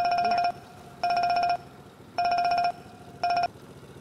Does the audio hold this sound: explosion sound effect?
no